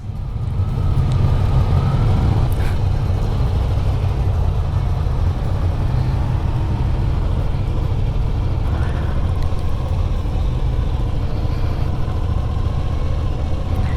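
An Italian adventure motorcycle engine runs steadily as the rider gives it gas, a loud, constant low rumble with wind noise, close and unbroken, and no speech.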